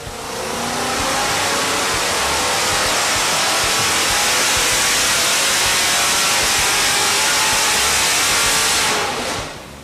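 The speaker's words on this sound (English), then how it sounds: "Let's check out one of the customer's big block Chevrolet power plants running today." A 540 cubic inch big block Chevrolet Merlin engine runs on a dyno in an engine shop, a loud, steady, close roar held throughout before cutting off abruptly at the end.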